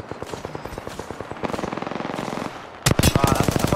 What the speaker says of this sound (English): they're getting shot from another squad